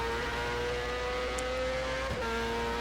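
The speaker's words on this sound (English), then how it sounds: "Once you get here, you can full throttle it." A 1995 Indycar engine held at full throttle in the racing game rFactor on the Toronto street circuit: a steady, high-pitched whining drone near and loud, with a brief dip and shift as a gear change or bump interrupts it.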